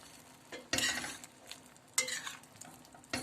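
Braised meat that has cooked about an hour and released its juices gets stirred in a pot with a spoon, giving a few scraping strokes and clatters over a low simmer, up close with no voices.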